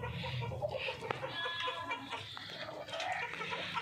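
Desi hens clucking around a village house farm, steady close clucks and murmurs over outdoor background noise, with an occasional sharper call.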